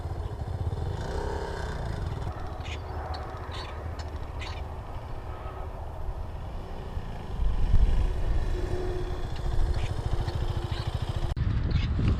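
A 2020 KTM 390 Adventure motorcycle engine rumbles steadily while riding, with low pulsing exhaust, wind rush and a swell in revs partway through, plus scattered clatter.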